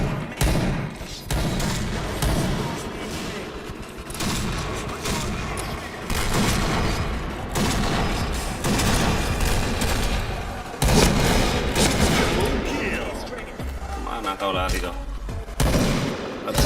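Rapid bursts of gunfire and heavy thuds of a grenade explosion in the online shooter PointBlank, loud and continuous throughout, with a voice talking over the action.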